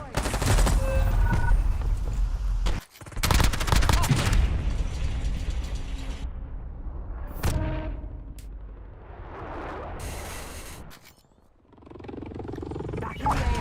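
Gunfire in the Warzone video game: loud, close bursts of automatic shots break off, then come back, with sharp single cracks and booming impacts between, over a busy game soundscape.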